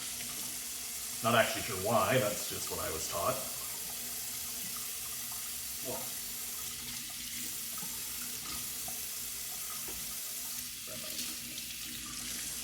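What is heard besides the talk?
tap water running over Indian mackerel fillet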